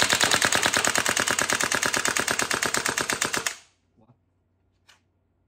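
A WE AK gas blowback airsoft BB rifle firing one loud, close full-auto burst of rapid, evenly spaced cracks for about three and a half seconds, then quiet with a couple of faint clicks.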